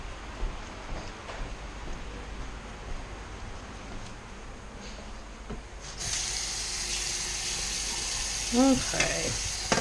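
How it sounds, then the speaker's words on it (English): Sink water runs as soap is rinsed off antique copper shades, with a steady rushing stream starting partway through after quieter handling sounds, and a voice briefly heard. "Now we'll go ahead and wash it off. You want to make sure you keep the soap moving."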